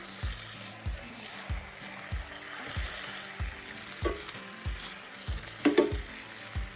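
Chicken cordon bleu frying in a covered pan, a continuous hissing sizzle with soft bubbling, punctuated by a regular series of low thumps about twice a second and a couple of sharper clatters near the end.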